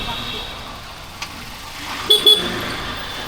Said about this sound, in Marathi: आज खूपच ट्रॅफिक होती.